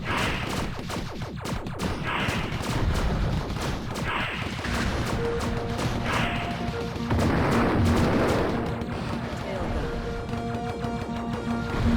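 The Tail Gun weapon fires repeatedly in the shoot-'em-up game Platypus Reclayed, a dense rapid stream of gunfire bursts and explosions over electronic game music, loud and continuous throughout.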